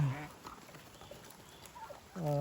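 Honking and squawking geese and turkeys call on a farm near the start and again at the end, with a faint background murmur between.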